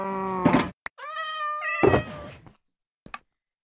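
Cat meows from the Minecraft Skyblock video game, several short separate calls, clear and close, with a small knock-like thunk between them and a faint final chirp.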